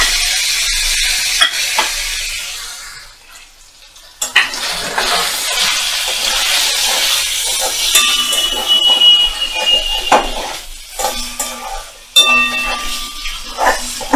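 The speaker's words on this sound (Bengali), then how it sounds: "বেশি ভাজবো না, তাহলে পনিরগুলো শক্ত হয়ে যাবে।" Paneer cubes fry lightly in oil in a kadai, giving a loud, close sizzle with scraping and clattering from stirring, briefly dropping away before the sizzling resumes.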